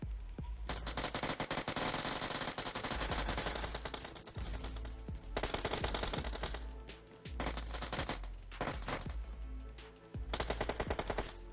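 Rapid bursts of M762 assault rifle fire during a competitive esports match, loud and close, repeating in dense volleys separated by brief pauses, with no talking.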